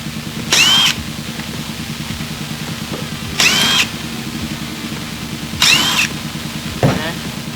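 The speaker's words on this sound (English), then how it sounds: "using something called a Tormach CNC mill, which cuts much thicker aluminum" Tormach CNC mill cutting thick aluminum, a steady close mechanical whir with a rapid pulsing rhythm, interrupted by three loud high-pitched squealing bursts as the cutter engages, plus a final short clunk.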